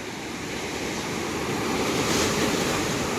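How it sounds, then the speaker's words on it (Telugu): Large ocean waves roll and wash continuously at Perupalem beach, a loud, broad roar of surf with wind buffeting the microphone and no voices. "కెరటాలు అయితే చాలా వేగంగా వస్తున్నాయి పెద్ద పెద్దగా వస్తున్నాయి"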